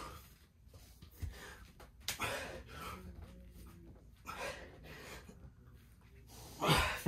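Heavy, labored breathing during a pushup workout, with irregular gasps and sharp exhales near the microphone and a louder huff at the end.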